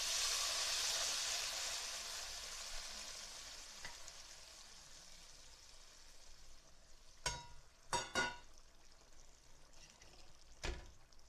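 A steady sizzle of spices tempering in hot oil in a pan for urad dal, fading over time, with a few sharp clattering knocks near the end.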